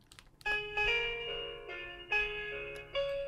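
Musical birthday card with a grand piano on the cover plays a short tinny electronic piano tune when opened, bright thin notes at low volume for a few seconds.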